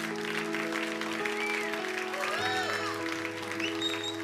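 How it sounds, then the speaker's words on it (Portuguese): Applause rises from a church congregation during a sermon service, a broad, even clatter of hands layered under sustained keyboard chords and a few sliding tones, while voices murmur faintly in the mix. "Se é para Jesus, vamos aplaudir."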